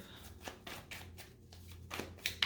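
Cards are shuffled in a series of quick, crisp riffles and flutters close by, with a few sharper taps near the end.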